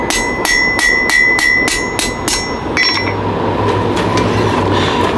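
A hammer strikes a steel taper on an anvil in sharp, ringing, evenly spaced blows, about eight in quick succession, then lighter, scattered taps and a low hum, loud and close with no talking.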